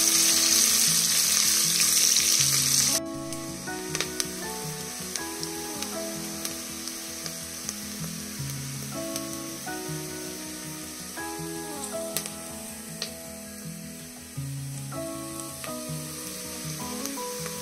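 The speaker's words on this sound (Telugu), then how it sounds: "ఎర్రగడ్డలు మగ్గుతా ఉన్నాయి" Onions sautéing in a pan for Andhra-style pappu sizzle loudly at first, then settle into a quieter, steady frying hiss with occasional stirring clinks beneath background music.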